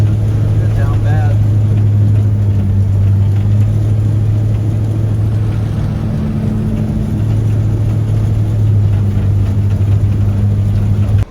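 Steady low drone of a Peterbilt truck engine idling and running while the truck turns around in a swamp, loud and continuous with no clear revving.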